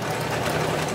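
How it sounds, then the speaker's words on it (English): A sewing machine runs steadily, stitching a tiny seam on a pair of doll jeans, with a continuous close mechanical whir and no talking. "I'm gonna stitch it twice because I don't want it to split open"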